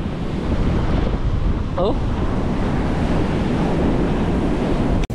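Sea waves rolling steadily onto a shore near a river mouth, with strong wind buffeting the microphone, loud and continuous. A voice makes a brief exclamation partway through.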